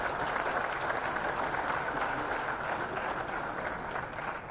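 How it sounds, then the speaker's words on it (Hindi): An audience claps loudly and steadily at a Rajasthan government policy launch as the chief minister unveils a new textile and apparel policy, a dense, sustained round of applause that tapers slightly toward the end, with no talking over it. "कि जोरदार तालियां बजाएं।"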